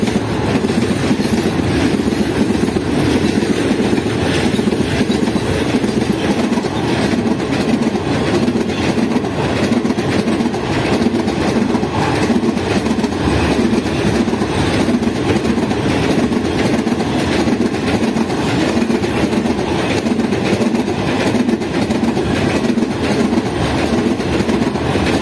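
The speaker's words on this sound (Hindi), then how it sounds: "काफी लंबी ट्रेन और अकेला आरजी खींचने वाला।" A long container train hauled by a single RG locomotive rumbles past steadily and loudly, with continuous wheel clatter and rail noise throughout and no voices.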